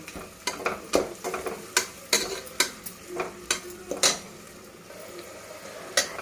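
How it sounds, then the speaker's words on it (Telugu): Ground tomato and chilli paste fries in hot oil for a mushroom biryani, with a quiet sizzle under a run of sharp, irregular spoon scrapes and clanks against the pan, close by and with no talk. "ఇప్పుడు మళ్ళీ దాన్ని కూడా వేసి ఆ పచ్చి వాసన వెళ్ళే వరకు బాగా వేయించుకుందాం"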